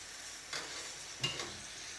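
Beef being tipped into a hot pan with sticky sauce and chili flakes, giving a quiet steady sizzle with a couple of soft stirring scrapes, close and without talk.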